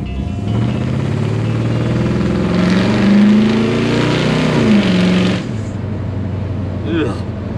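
An old beater car with no brake lights is driven at speed, its engine droning steadily and swelling as it accelerates before easing off, heard from inside the car with the motor loud and close.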